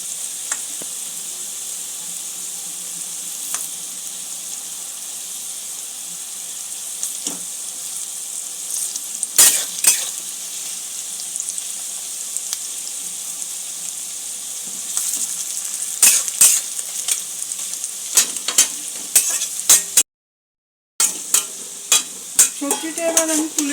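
Vegetables for a Bengali-style vegetable pulao fry and are stirred in a pan, a steady close sizzle with scraping stir strokes that cluster and grow busier toward the end, broken by one brief silent gap.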